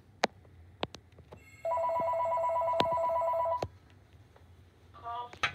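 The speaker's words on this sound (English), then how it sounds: "Now we're going to do the phones ringing." A telephone rings with a continuous electronic trill for about two seconds amid sharp clicks and knocks, then another phone begins ringing briefly.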